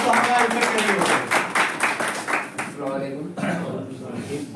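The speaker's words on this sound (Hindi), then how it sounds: "तो पहले इनके लिए जोरदार तालियां हो जाए" Loud applause and clapping from a function crowd honoring Munshi ji at an Ummat Foundation event, dense and broadband for the first few seconds, then thinning as a voice talks over it.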